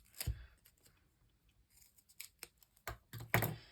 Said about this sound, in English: I'll cut it down a bit narrow